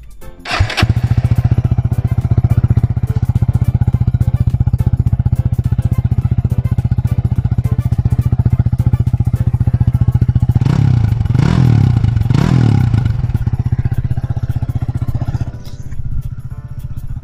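A SYM VF3i motorcycle with an aftermarket Rapido exhaust idles loudly and steadily nearby, then revs sharply three times with a raspy exhaust bark before settling and cutting off.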